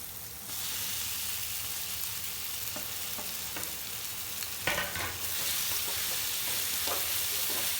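Boiled potato pieces, cut into large chunks, fry in a hot pan with a steady, close sizzle, punctuated by a few scraping stirs and clinks partway through; no one speaks.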